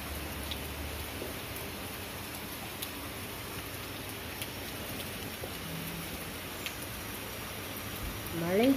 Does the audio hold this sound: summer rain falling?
yes